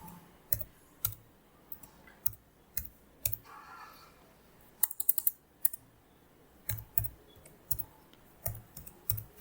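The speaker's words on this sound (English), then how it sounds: "Let's type in Shopify.com" Someone types on a computer keyboard, with crisp, close keystrokes in irregular bursts and short runs of quick taps, alone without talk.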